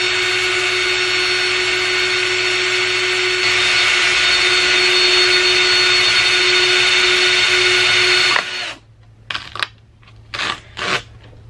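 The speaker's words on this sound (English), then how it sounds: "I'm just gonna make a small drill hole." A loud, steady whine of a power drill boring a small pilot hole in a DJ controller flight case runs for about eight seconds, then stops, followed by a few short bursts.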